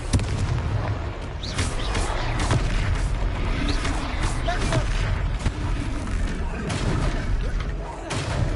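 A Confringo blast spell explodes in the video game Hogwarts Legacy amid dense, continuous booming and crackling combat noise, loud throughout.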